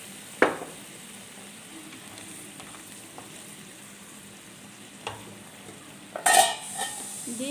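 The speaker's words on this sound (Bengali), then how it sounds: "এবার দেখুন এই ভাজা বড়িগুলো আমি এর উপর দিয়ে দিচ্ছি।" Fried lentil bori dropped into simmering neem shukto in a pan, with a low steady sizzle broken by a few sharp clinks and scraping thuds of utensils against the pan, no voices.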